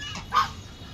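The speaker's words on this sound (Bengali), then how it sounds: "এগুলো হচ্ছে রাজহাঁস, এগুলো হচ্ছে পাতি হাঁস।" A single goose at a small mini zoo gives a brief, loud honk that stands out against faint background noise.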